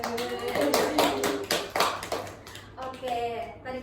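Students in a classroom clap in a burst of sharp, rhythmic claps that thin out into scattered taps. A teacher's voice talks over and after the clapping.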